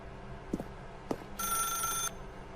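A telephone rings in The Stanley Parable Ultra Deluxe game, with two short knocks or clunks followed by one loud bright electronic ring lasting under a second, heard on its own.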